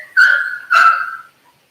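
Henry, a pet dog, gives two loud, close barks about half a second apart, then silence.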